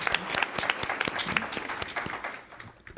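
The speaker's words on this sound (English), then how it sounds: "I'm just gonna go ahead and give you all a clap" Clapping at an International Women's Day event, a run of distinct individual claps with a sparse, uneven rhythm, close and moderately loud, thinning out briefly before one last clap.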